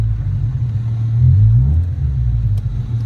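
A Honda Civic engine rumbles steadily while driving, rising briefly in a rev midway before settling back, loud and close with no talking.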